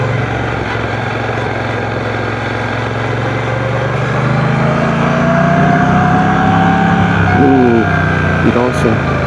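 A 1200cc motorcycle engine hums steadily during a ride, its low drone rising slightly in pitch, mixed with wind rush, with a rider talking over it.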